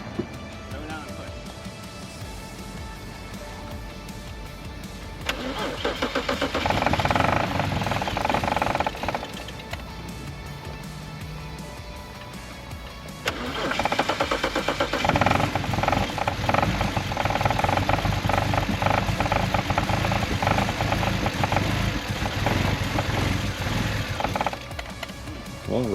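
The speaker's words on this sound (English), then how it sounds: "Let's see really quick if it will stay idling." An abandoned BMW 335i engine turns over and settles into a rough, vibrating idle, revving louder in stretches, with people talking over it.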